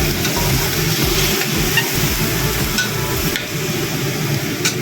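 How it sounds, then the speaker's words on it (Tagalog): Water goes into a pan of cooking eggplant, setting off a loud, steady broadband sizzle and hiss that holds for the whole stretch with no talking. "And then let's add water."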